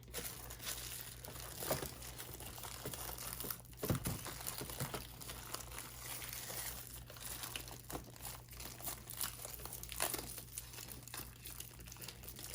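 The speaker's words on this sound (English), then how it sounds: "You can put little pieces of tape if it needs it." Small pieces of tape are handled and pressed onto a doll to make a pinnable dress form, quiet crinkling and light tearing sounds that come and go, close up, over a low steady hum.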